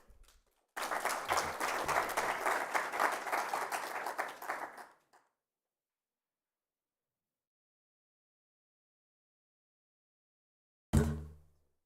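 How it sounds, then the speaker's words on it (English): An audience at an African cybersecurity conference session applauds to welcome the next speaker onstage: about four seconds of dense, steady clapping that ends abruptly, then silence and a short bump or tap near the end. "Round of applause."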